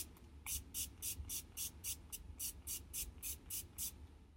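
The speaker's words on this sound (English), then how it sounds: "put a little bit of my NYX matte setting spray on it" A rapid series of about a dozen short, evenly spaced pumps of NYX matte makeup setting spray, each a crisp airy hiss, close by with a faint low background rumble.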